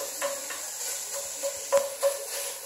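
Chopped chorizo browns in a pan with a soft steady sizzle and hiss, broken by a few faint stirring scrapes and clicks, and no one talks.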